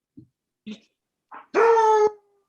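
A dog at home during a town selectboard meeting gives a few short, soft yelps, then a sustained, tonal howling whine lasting about half a second, heard clearly and close against a quiet background.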